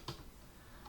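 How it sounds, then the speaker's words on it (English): A couple of soft key clicks from a small keyboard while entering a web address during an Amazon Fire TV setup, quiet and brief with a gap between strokes. "You're gonna type in the path"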